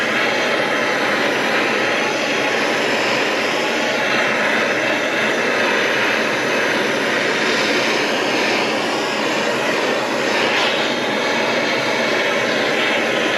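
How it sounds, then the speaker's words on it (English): A blowtorch heats a furnace for melting silver, a loud, steady broadband roar of flame that holds constant throughout, with no talk. "We're going to use my blowtorch here. We're going to get this thing nice and hot."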